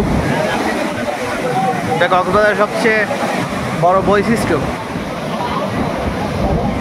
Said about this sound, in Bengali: বড় বড় ঢেউ।